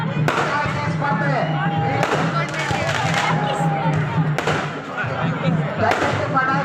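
Firecrackers bursting at a village temple fair, several sharp loud bangs spaced a second or two apart over a busy crowd murmur, with people talking nearby.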